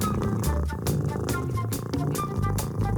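A cat purrs in a steady, rhythmic rumble close to the microphone, with other sounds layered over it.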